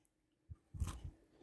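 Crunchy bites into a crispy homemade waffle, a sharp bite followed by several close, loud chewing crunches over about a second.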